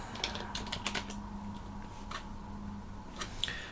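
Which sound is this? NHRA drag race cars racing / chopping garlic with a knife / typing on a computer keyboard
typing on a computer keyboard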